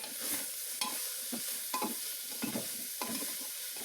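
Chopped onion, ginger and garlic fry in a pan for chicken stew, crackling sizzle broken by repeated scraping stirs in a steady rhythm, close and fairly quiet, with no talk.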